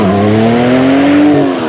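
Video game car sound design: a loud, steady engine tone rises gradually in pitch as it revs, with tire squeal and skid texture layered over it, playing alone without talk.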